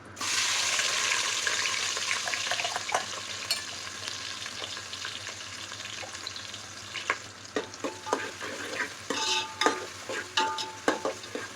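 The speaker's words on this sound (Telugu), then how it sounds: "నూనె కాగింది, ఇందులో ఇప్పుడు ఉల్లిగడ్డ, పచ్చిమిరపకాయ వేద్దాం" Chopped onion and green chilies sizzle steadily in hot oil, a continuous frying hiss with intermittent stirring scrapes and clinks that grow louder and more frequent toward the end, with no talking.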